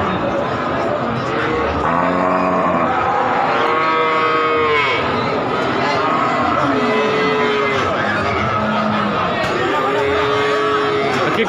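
Cattle moo repeatedly at the Wirosari cattle market in Central Java, long drawn-out calls rising over a constant murmur of crowd chatter and people talking nearby.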